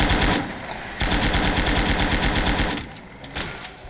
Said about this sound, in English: is that an AT rifle?